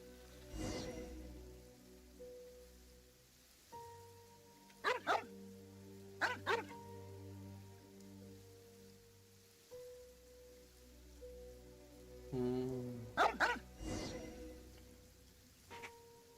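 A dog barking in the rain in the video game Genshin Impact: several sharp barks, some in quick pairs, spaced across a low steady rain-and-music background, fairly faint overall.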